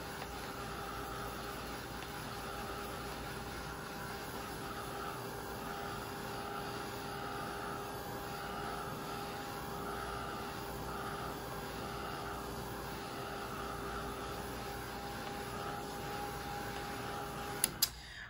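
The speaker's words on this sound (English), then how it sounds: "I am going to take my heat tool and just hit this so it doesn't smear." A heat tool blows hot air steadily over a freshly inked card, a constant even whir running for nearly the whole stretch before cutting off with a couple of clicks at the end.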